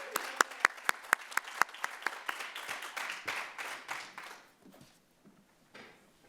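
Applause from a commencement audience for Specialist in Education graduates at a fall graduate hooding ceremony, starting with sharp individual claps that blend into a full round, then thinning and fading out.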